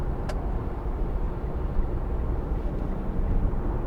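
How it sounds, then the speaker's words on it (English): A 2010 Mitsubishi Outlander 2.2 DI-D diesel engine drones steadily as revs climb with a slipping clutch, a loud, dense low rumble heard from inside the car, with no talking. "The revs are going up, but the speed of the car is not increasing."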